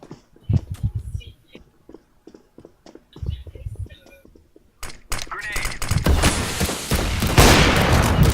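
Shotgun fire in a video game, with a few sharp blasts scattered among quiet stretches, followed by a dense, loud barrage of gunfire and clatter at the end while people talk.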